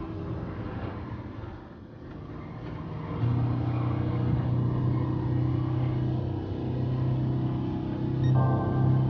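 A Volkswagen Samba Type 2 bus in Gran Turismo Sport drives through a custom race, its mid-pitched engine droning steadily and swelling as it revs up partway through, with no talk.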